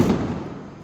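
A Diwali firecracker bursts close by with a loud broadband blast that fades over a second into a crackling, rumbling tail.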